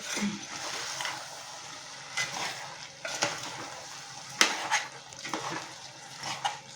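Potato curry with chili powder being stirred in a pan, with soft scraping and clinking strokes at an irregular pace over a faint sizzle, close up and without talk.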